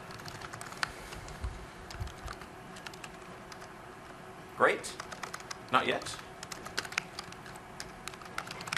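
Computer keyboard typing during live coding of a Windows Store app in XAML, a steady patter of key clicks running under a presenter's speech, with a couple of louder taps standing out midway.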